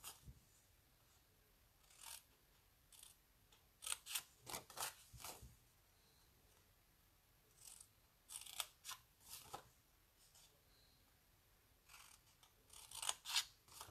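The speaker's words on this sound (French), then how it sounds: "je coupe pile sur la ligne de pli jusqu'au croisement" Scissors snipping through paper or card along a fold line while making a box with a rounded closure, in short separate bursts of sharp close cuts with quiet gaps between them.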